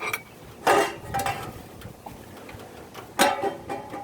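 A metal lid knocked onto a tinder box tin gives two sharp metallic clinks about two and a half seconds apart, with lighter rattles and scrapes between them, close and alone.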